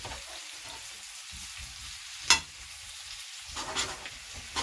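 Leeks covered with onion cooking in a pan, a faint, low crackling sizzle with a sharp clink partway through and a few louder stirring bumps near the end, with no voices.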